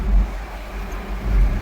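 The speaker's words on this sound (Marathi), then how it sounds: "कार आली कार." A car goes by on a road during a tempo trip from Virar toward Mira Road, a low engine rumble swelling, easing off and rising again over a short moment.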